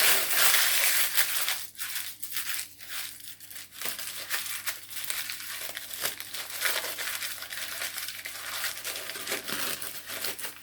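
Greaseproof baking parchment is screwed up by hand, a continuous close crinkling and crackling that runs on for several seconds with short pauses and no talk.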